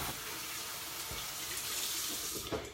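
Tap water running steadily into a sink for rinsing, a close, continuous splashing hiss with a few small clunks, quiet and without talking.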